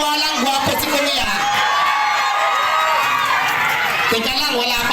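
A crowd at a Filipino giveaway contest, with a prize of cash and a sack of rice, shouts loudly together in one continuous, dense roar of many voices for several seconds.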